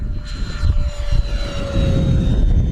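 An FMS A-10 Thunderbolt II 1500mm RC jet roars past with its power coming up after flaps are raised, a loud, close engine whine with a steady high tone over rushing air.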